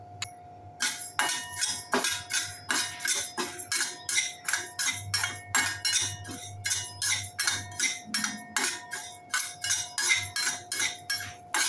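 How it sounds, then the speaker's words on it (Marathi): Urad dal dry-roasts in a pan for Malvani kombdi vade flour, a rapid rhythmic series of clinking, rattling strokes as a utensil stirs the dry lentils against the metal, close and steady with no talking. "आता आपण उडदाची डाळ भाजून घेऊया।"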